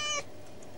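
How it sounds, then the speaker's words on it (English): A single short, clear meow from a cat, a quick tonal cry that stops abruptly and is followed by quiet. "The cat."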